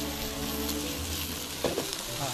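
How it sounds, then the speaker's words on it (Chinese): Freshly harvested lotus root tips stir-frying in a hot wok in a Hunan country kitchen, giving a steady close sizzle with a brief burst of clatter and stirring partway through. "此时刚刚采收的藕尖儿也下锅"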